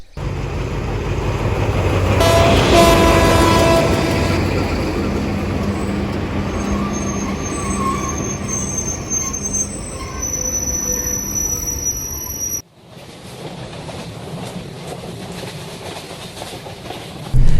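A train in Bursa rumbles steadily along the rails with rhythmic clatter and occasional high wheel squeal, loud and close, then the sound abruptly drops to a muffled interior hum.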